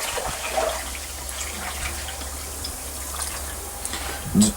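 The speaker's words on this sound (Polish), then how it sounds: "dolewamy resztę wody do pełna, 5 litrów." Water is poured into a container to top it up to five litres for a pigeon supplement mix, a steady splashing rush that lasts throughout at a moderate level, ending with a brief knock.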